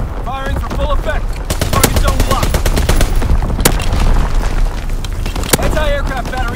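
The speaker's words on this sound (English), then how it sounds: "Firing division artillery." Artillery barrage in Call of Duty WWII multiplayer domination on Shipment 1944: a rapid string of loud booming impacts and gunfire crackle, close and dense, with game voice lines spoken over it.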